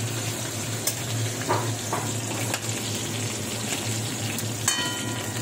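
Climbing perch (koi fish) fries in oil in a pan, sizzling and crackling steadily, with occasional sharper pops and light clinks from stirring.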